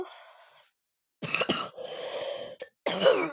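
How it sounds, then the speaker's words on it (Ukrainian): Several harsh coughs from a person who is ill, in quick bursts, close to the listener, with a softer breathy sound at the start and short pauses between coughing fits. "Вибачте, що я так часто кашлюю"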